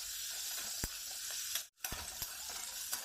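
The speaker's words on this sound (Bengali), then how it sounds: "এখন কড়াইয়ে তেল দিয়ে আলুগুলো দিয়ে দেব।" Potatoes frying in oil in a wok, a steady sizzle broken by scrapes and clicks of stirring and a brief dropout midway, fairly quiet with no voices.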